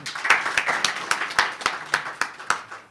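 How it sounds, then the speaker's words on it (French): A small audience at a girls' scholarship induction ceremony gives a short round of steady, evenly spaced clapping, close and moderately loud. "qui mérite une salve d'applaudissements"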